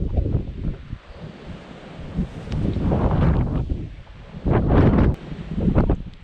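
Gusty wind roars against the mic, surging in heavy bursts between calmer moments.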